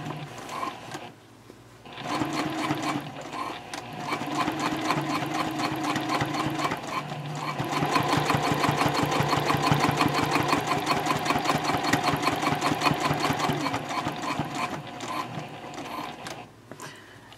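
A domestic sewing machine stitches around the boxed corner of a Swoon Maisie bowler bag at a 2.5 stitch length, running in a steady rapid motor whir with fast needle ticking that briefly pauses, then continues close and even.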